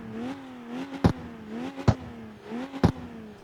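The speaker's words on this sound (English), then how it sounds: "It sounds like an inline 6." Car engine in the CarX Street racing game revving repeatedly, a six-cylinder-like tone rising and falling in three or four bursts, each punctuated by a sharp crackle or pop, with no talk.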